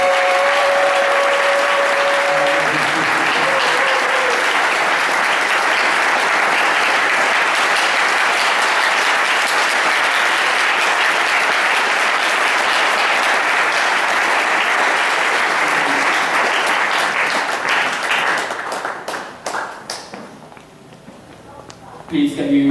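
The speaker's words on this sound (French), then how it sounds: "Acclamez son nom." Church congregation applauds a pastor in a long, dense, loud roar of clapping that holds steady for about twenty seconds and then tapers off sharply, with voices mixed in.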